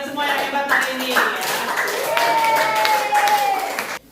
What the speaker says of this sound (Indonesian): Tepuk tangan buat kalian semua yang hebat hari ini ya.